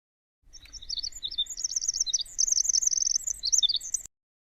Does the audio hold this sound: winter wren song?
yes